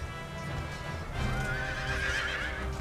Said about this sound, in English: What's happening to these horses?